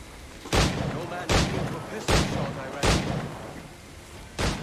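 Gunfire in Assassin's Creed IV: Black Flag booms out as five heavy, evenly spaced shots, each loud and broad with a short rumbling tail over a constant background din.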